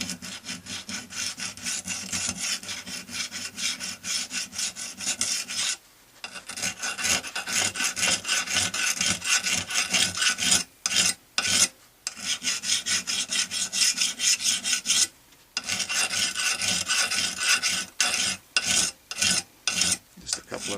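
A hand file rasps in rapid back-and-forth strokes across a lawnmower blade, a steady gritty scraping with a few brief pauses and a run of short separate strokes near the end.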